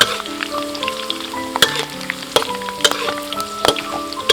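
Glass fish deep-frying in hot oil with chili, kaffir lime and pandan leaves, a steady close sizzle with sharp pops and crackles scattered throughout, no talking.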